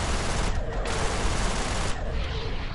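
Missile fire in the Everspace space combat game, a dense loud burst of rapid launches and blasts over a constant rushing roar, no talking.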